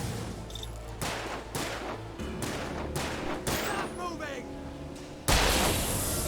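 Rapid bursts of gunfire in the video game Alan Wake, several sharp shots spaced through the scene, with a louder blast near the end, over a steady low game background; no talk.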